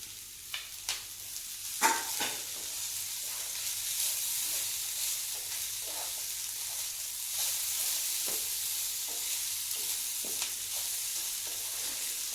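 Grated cooked plantain frying in oil in a pan, a steady close sizzle broken by several sharp scraping stirs early on, with no talking.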